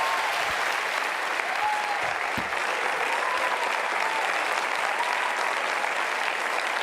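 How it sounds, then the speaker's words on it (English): An audience applauds at a conversation event on democratic organizing, with a steady, dense round of clapping that holds evenly from start to finish with no talk over it. "Please give them a big round of applause."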